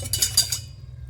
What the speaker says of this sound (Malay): Kita kacau.